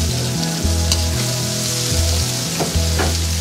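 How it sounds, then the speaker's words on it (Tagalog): Chayote and carrots stir-fried for a pork stir-fry sizzle loudly up close, with a constant hiss and rhythmic scraping strokes of the stirring utensil against the pan. "Unahin natin ang matitigas kagaya ng chayote at carrots. Stir fry lang natin sila."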